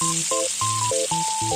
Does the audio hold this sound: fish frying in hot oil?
yes